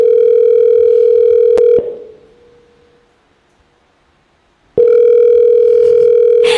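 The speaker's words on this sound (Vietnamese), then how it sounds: "Quyết định gọi lại một lần nữa." A steady telephone dial tone hums loudly while a call is placed, cuts off and fades into near silence, then returns abruptly just as loud.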